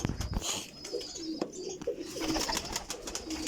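Pigeons in a breeding loft coo in soft repeated throaty calls close by, with faint rustling and handling noises between them.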